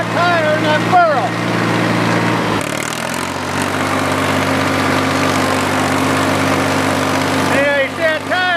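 A farm tractor engine runs steadily while plowing a fall food plot, the front tire riding in the furrow; a loud, continuous low drone with a brief shift in pitch partway through, and a voice speaks at the start and end.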